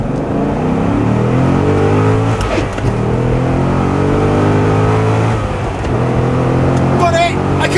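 A Porsche 997 GT2 sports car accelerates hard through its gears, the engine note loud and close with brief breaks at the shifts and a harsh gearbox synchro noise, while someone talks over it.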